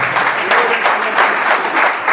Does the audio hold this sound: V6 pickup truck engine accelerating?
no